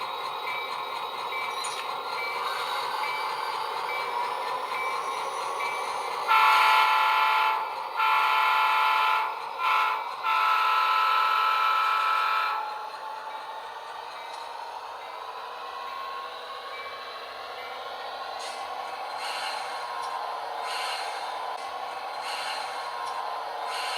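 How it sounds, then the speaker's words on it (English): HO scale model train sounding its horn in several short toots, then rolling out with a steady mechanical hum and rail clatter; close, fairly quiet, no voices. "Once we get the clear signal, we can sound the horn and roll on out."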